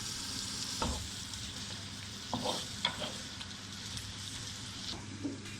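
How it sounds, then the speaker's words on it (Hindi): Onions sizzle and fry steadily in hot oil, with a few scraping stirs and clinks from a utensil in the pan. "अब इसको हल्का फ्राई कर लेंगे"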